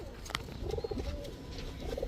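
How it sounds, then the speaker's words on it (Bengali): Pakistani running pigeons coo close by, a few soft throaty rolling calls over a faint background murmur. "এটা হচ্ছে পাকিস্তানি রানিং কবুতরের প্যাকেজ যাবে"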